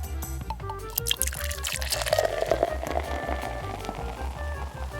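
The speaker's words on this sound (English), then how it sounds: "let's pour a little bit in" Liquid pours steadily into a plastic toy container, a continuous splashing trickle with bubbling and dripping, close and fairly loud, over background music.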